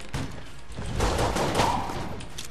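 Pistol gunfire in the video game Enter the Gungeon, a dense burst of rapid shots and impacts packed together over a couple of seconds, loud and close.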